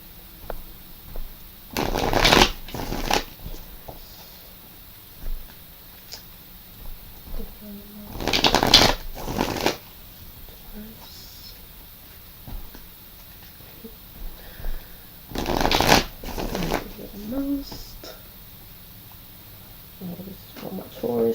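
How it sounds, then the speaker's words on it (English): Vision Quest Tarot cards are shuffled in three short riffling bursts separated by quiet pauses, close and fairly crisp against a calm room. "I'm going to pull a card or whatever pops out from the Vision Quest Tarot"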